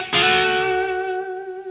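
An electric guitar with a spanky, clean tone, tuned half a step down, plays a short bluesy phrase. A single sharp attack opens it and a note rings out and slowly decays, with no talking.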